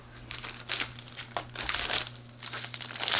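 Close, crisp crinkling of plastic haul packaging from a stationery order, handled in repeated bursts with no talking.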